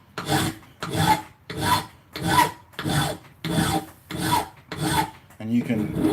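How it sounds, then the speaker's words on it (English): A steel file card, a very fine-tooth steel brush, scrubs clogged file teeth clean in about eight steady, close rasping strokes, each a short scratchy burst with brief pauses between, and no talking. "It's just basically a very fine-tooth steel brush, but it's designed for clearing file teeth."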